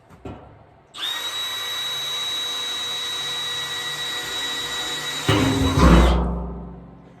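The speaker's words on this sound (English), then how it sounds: "We'll try it on drill first, and then I'll try it on hammer." Milwaukee M12 Fuel hammer drill running on drill setting, a loud steady high-pitched motor whine for about four seconds, then a rougher surge as it bites before spinning down.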